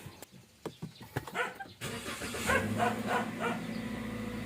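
A car engine cranks in short bursts, then catches and settles into a steady idle. Stated context: a vehicle rented out for three days and being delivered from a car wash, in the Philippines.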